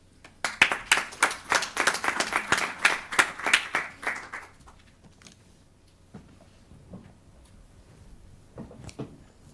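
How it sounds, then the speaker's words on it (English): A small audience gives a brief burst of applause after a panel presentation on violence and crime. Clapping is dense and close for about four seconds, then thins to a few scattered claps and room noise. "A round of applause, please."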